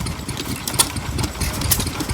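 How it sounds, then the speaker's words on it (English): A Chore Boy 1 3/4 horsepower stationary engine runs at a vintage rally with a steady low chugging, heard among general outdoor crowd noise. "That's a nice little engine."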